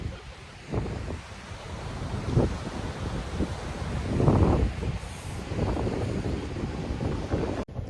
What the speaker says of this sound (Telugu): అన్ని వైపుల నుంచి గాలి అయితే వస్తుంది